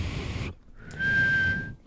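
A single person whistles one steady, sustained note for close to a second, clear and close, after a brief breathy start and with no talking over it.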